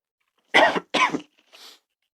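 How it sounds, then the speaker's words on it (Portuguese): Two sharp coughs in quick succession, followed by a softer, breathy third cough, close and loud against silence. "eu tô tossindo aqui"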